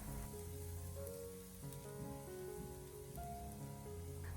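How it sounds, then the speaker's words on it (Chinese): Minced ginger and garlic stir-fry in a wok over low heat, giving a soft, continuous, rain-like sizzle with gentle background music playing over it. "下切好的姜蒜末，开小火给它翻炒一下"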